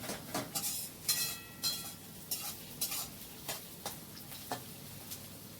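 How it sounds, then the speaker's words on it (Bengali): Sliced onions frying until crisp in hot oil in a wok, stirred repeatedly so a utensil scrapes the pan in irregular strokes over a soft, steady sizzle, with no voices. "তেলের মধ্যে আমি পেঁয়াজের বেরেস্তাগুলো ভেজে নেব।"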